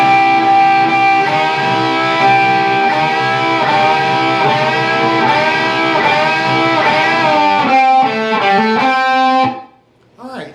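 A distorted electric guitar plays the lead intro of a song: loud, sustained notes with repeated string bends, ending in a quick run before stopping, with nothing else heard.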